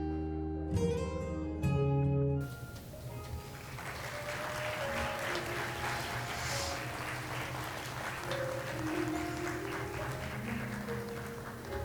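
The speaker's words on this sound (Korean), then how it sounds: "큰 박수로 봐주시기 바랍니다" Guests at a Korean wedding applaud ahead of a congratulatory song, a sustained crowd clapping that runs for about ten seconds under soft music, following a few sharp tones at the start.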